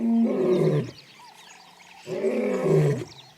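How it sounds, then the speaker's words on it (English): A male lion in his territory gives two deep, bellowing roars, each lasting close to a second with a quieter gap between them, loud and resonant with no talk. "He announces his presence with a bellowing roar, which can be heard for up to 5 miles."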